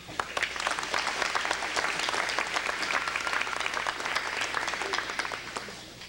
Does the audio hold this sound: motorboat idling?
no